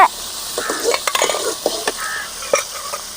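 Tomatoes sizzle and crackle in a hot frying pan while being stirred, a steady frying hiss with scraping strokes of a utensil, close and fairly loud.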